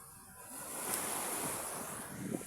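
Ocean waves washing onto a Philippine shore after a tsunami, with a steady broadband wash of surf and light wind noise across the whole stretch, rising slightly in the middle. Nobody speaks.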